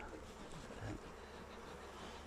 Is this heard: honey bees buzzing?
yes